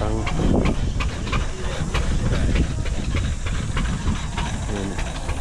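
An old manual engine chugs and hisses steadily at an agricultural and pastoral show, loud and continuous with a rhythmic mechanical pulse, while people talk faintly in the background.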